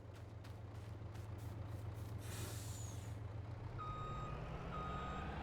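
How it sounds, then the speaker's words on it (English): A truck in a farming video game starts up with an air brake hiss, then steady reversing beeps repeat over a low engine drone. "let's start up our truck"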